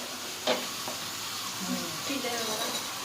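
Thai fish sausage frying in oil in a pan gives a steady close sizzle with a sharp tap near the start and faint stirring noises.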